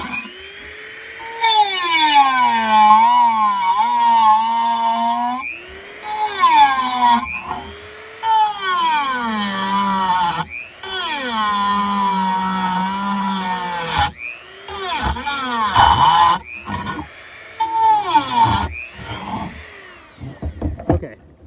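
A power tool cuts through metal during a DIY tanker build, running in repeated loud bursts of several seconds with brief pauses between them, its pitch bending as the load changes; a voice speaks in the gaps.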